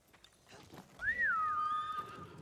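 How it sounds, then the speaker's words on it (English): A horse in the video game Ghost of Tsushima lets out a single clear, wavering whinny after a quiet stretch of faint rustling, fairly close and loud. "Horse!"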